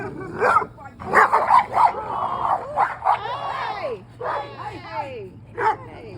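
Several dogs bark, yip and whimper in quick overlapping bursts close by, mixed with people talking over them amid a steady low hum.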